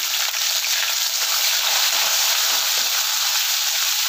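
Sliced onion sizzling in hot oil in a pan while rava kichadi is cooked, a steady close bright crackle with faint stirring, no voices.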